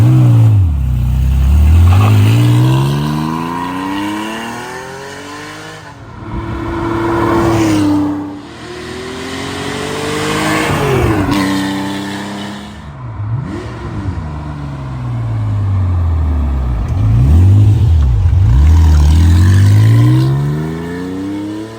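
A 1983 Porsche 911 SC built as a tribute to the 1974 911 IROC makes repeated loud drive-bys, its engine rising and falling as the car passes close, pulls away and returns with fresh revving, alone with no voices.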